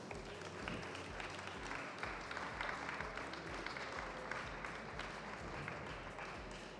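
Audience applause at a Paris Retail Week 2016 special session, a steady broadband wash of clapping from a large crowd filling the whole stretch at moderate level.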